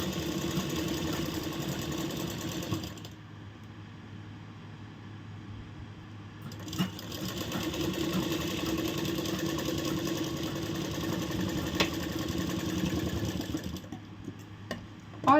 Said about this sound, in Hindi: डोरी के बाहर ही हमारी सिलाई होगी।